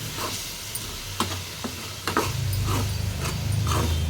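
Ridge gourd curry stirred in a pan as it cooks, a spoon scraping and knocking against the pan in irregular strokes over a low sizzle, close and fairly loud, with no speech.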